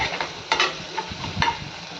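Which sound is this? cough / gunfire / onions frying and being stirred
onions frying and being stirred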